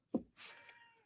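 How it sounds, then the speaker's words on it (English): A male house cat shut out of a room lets out one short, angry meow, close and fairly quiet, followed by a brief trailing whine in an otherwise silent room. "My cat is mad. He's out of the room and he's mad about it."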